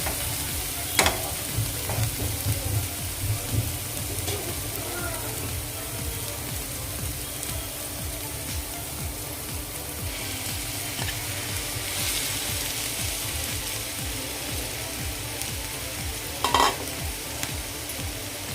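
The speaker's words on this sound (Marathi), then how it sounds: "आता यामध्ये आपण बटाटा घालूया" Mashed potatoes frying in a spiced pan for a simple potato bhaji, a continuous close sizzle with repeated scraping stirs and occasional utensil clinks.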